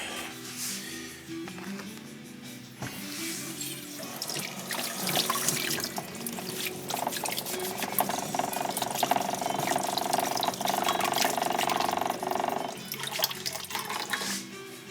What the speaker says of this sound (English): I'll tell you what's next is I've got to wash my hands.